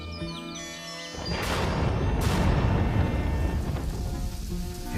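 Steady heavy rain pours down with a loud thunder crack and a long rumbling roll, broad and close, following a brief quieter stretch with faint music at the start.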